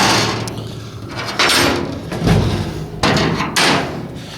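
The door on a Yeswelder 205ds-b welder is worked by hand, giving several close knocks, thumps and brief sliding scrapes spread irregularly over a few seconds.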